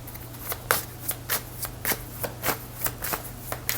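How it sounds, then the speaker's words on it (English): Tarot cards being shuffled by hand in a steady run of crisp riffling bursts, about a dozen quick slaps and flutters, close and clear over a low steady hum. "I want me to shuffle this a little bit more and get one more card"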